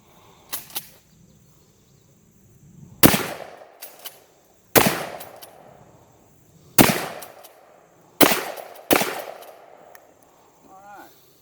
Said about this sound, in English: These shells have 16 pellets of number 4 buck.